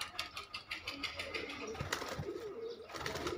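Pigeons coo softly at a rooftop loft, low murmuring calls blending with background chatter and faint flutters, fairly distant and quiet.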